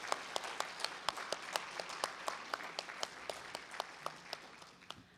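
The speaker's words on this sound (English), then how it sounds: "Let's have another round of applause for our Parks Department and Mr." A small audience at a neighborhood award ceremony gives a round of applause for the Parks Department, with sparse, distinct hand claps sounding at a steady pace and thinning out toward the end.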